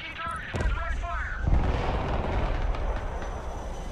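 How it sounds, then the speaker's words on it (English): Direct-fire artillery barrage in the Broken Arrow real-time strategy game: heavy low booms and rumbling blasts build from the midpoint into a sustained, dense roll of fire, preceded by brief radio-style voice chatter. "All artillery reporting in. Engaging target with direct fire."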